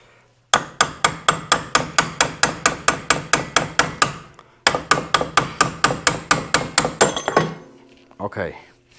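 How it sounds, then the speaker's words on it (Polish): A copper hammer strikes metal parts while a CVT gearbox with a noise fault is taken apart: two long bursts of sharp, evenly spaced blows, close and loud, with a brief pause between them and a scraping sound at the end. "użyję młotka miedzianego"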